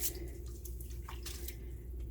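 A crochet square is pushed under water mixed with Woolite for blocking, giving soft continuous sloshing and dripping close by with no talk.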